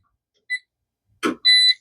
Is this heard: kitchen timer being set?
yes